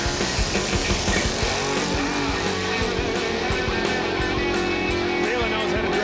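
A drag racing truck engine roars and revs steadily up close, a rough racing motor with crowd noise and voices faintly mixed in.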